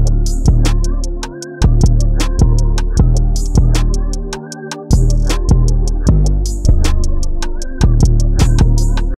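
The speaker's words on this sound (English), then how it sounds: "it was time for the 808, which I just had following the root notes." Deep 808 bass in an ambient R&B beat made in FL Studio, holding long booming notes that follow the root notes, with a brief dropout or two, under crisp, regular drum hits and a full arrangement.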